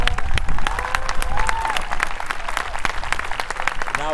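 Spectators applaud after a Civil War battle reenactment outdoors, sustained crowd clapping with a few whistles rising above the dense patter.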